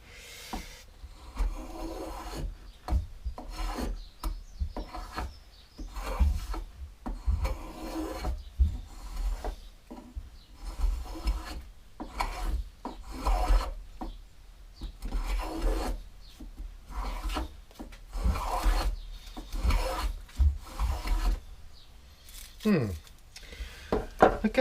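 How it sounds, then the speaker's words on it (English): Spokeshave shaving wood for a milking stool, giving repeated rasping strokes in an irregular rhythm, close and fairly loud, with brief pauses between passes. "I think I found the correct use for my spoke shave"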